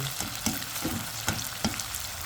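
Food frying over medium heat gives a soft, steady sizzle, broken by a few sharp pops and light utensil clicks.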